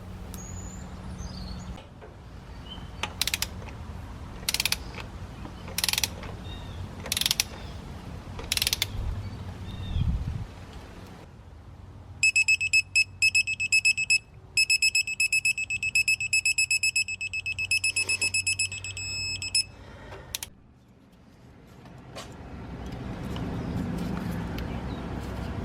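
Torque wrench tightening the oil pressure sending unit on a Subaru 2.5L engine to 18.4, heard as a series of sharp metallic ratchet clicks, then a rapid run of bright clicking, over faint shop background.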